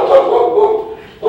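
A large pitbull barks loudly and close by, one sustained burst followed by another after a short gap.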